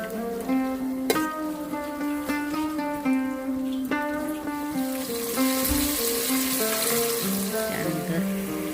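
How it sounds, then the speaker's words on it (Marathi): Green peas fry in oil with onion and green chilies, a steady close sizzle that grows brighter and hissier toward the end, with tonal background music running throughout. "प्रत्येक भाज्या घालून आपण थोडं त्याला फ्राय करून घ्यायचं."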